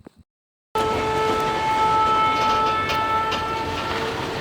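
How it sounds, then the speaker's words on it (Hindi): A goods train rolls past near Alamnagar station with a loud, steady, close rumble of wagons, a sustained tonal whine riding over it, and no talk. "तो ये जाते हुए देखिए गुड्स ट्रेन।"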